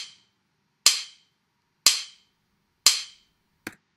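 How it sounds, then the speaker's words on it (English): Four very loud sharp sync clicks from an audio file in a recording project, evenly spaced about a second apart, each a crisp isolated snap with silence between and the last one slightly shorter. "you'll hear 4 very loud clicks"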